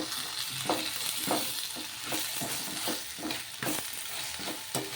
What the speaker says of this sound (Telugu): ఇలా ఈ 3 కూడా వేసేసుకొని ఇప్పుడు మొత్తం ఒకసారి బాగా కలిపేసుకుందాము